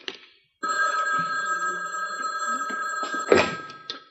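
A telephone bell rings indoors in a steady, continuous trill lasting about three seconds, fairly close and clear, with a brief knock or clatter near the end and no speech.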